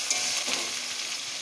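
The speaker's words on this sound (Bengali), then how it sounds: "পেঁয়াজটা দিয়ে আমি একটু লাল লাল করে ভেজে নেব।" Chopped onions fry in hot oil in a pan, a steady close hissing sizzle with a brief stirring scrape, no voices.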